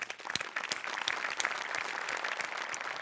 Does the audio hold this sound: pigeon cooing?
no